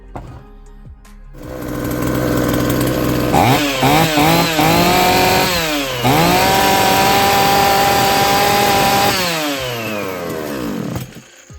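A Vitals BK 719r Chinese petrol engine, a small brushcutter-type motor that will not hold idle, starts up and runs loud and close, revving up and down several times before settling into a high, steady buzz, with no talking.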